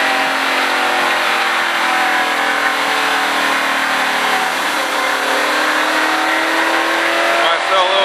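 A race car engine drones steadily at close range during a track driving experience, a loud continuous hum with gently shifting pitch as it holds speed, while people talk over it.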